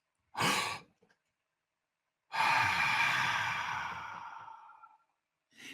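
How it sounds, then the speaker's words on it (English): Deep, fast mouth breathing in a Wim Hof method variation: one short sharp inhale, a pause, then a long forceful breath fading over about two and a half seconds, close and alone. "open up your mouth wide like so. And breathe in like this."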